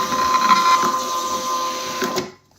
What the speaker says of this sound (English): print text page